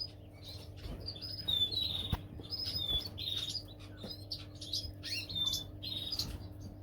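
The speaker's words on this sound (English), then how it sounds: "So in here we have got 3 birds." Three canaries in a breeding cage chirping and tweeting in quick, high bursts, fairly close and moderately loud, with a low steady hum beneath and no talk.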